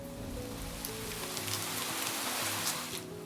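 Heavy rain pours across the Saudi desert during a storm, a steady broadband wash of drops drumming on the ground with a continuous low rumble underneath, loud and unbroken throughout.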